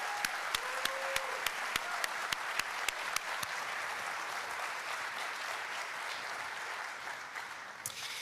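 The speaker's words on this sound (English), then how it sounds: "That piece absolutely deserves another round of applause." A crowd at a high school tenth anniversary celebration claps steadily for a performance by a teacher and students, with a few distinct sharp claps standing out near the start, the steady wash of clapping continuing throughout at a moderate distance.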